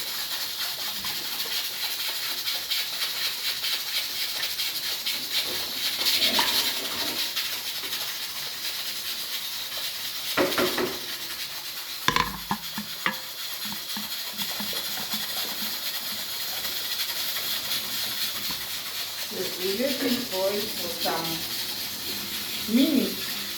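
A pot of pap, a maize porridge, boils with a continuous soft hiss and bubbling, broken by a few sharp knocks and clatters, and a voice speaks briefly near the end.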